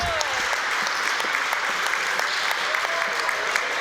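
Applause from a crowd at a pickleball match during the Scottish Open, a dense, steady clatter of many hands clapping that holds throughout, loud and close, with no voices rising above it.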